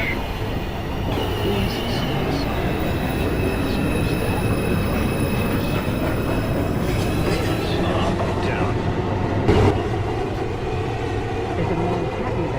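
A New York subway 1 train approaches the station with a loud, sustained rumble, thin high-pitched wheel squeals ringing over the roar and a brief sharper clank near the end.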